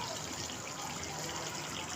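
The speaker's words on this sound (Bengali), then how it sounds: "পানি দিচ্ছি।" Water poured into a pot of simmering beef curry, a steady broadband gush running evenly for about two seconds before cutting off abruptly.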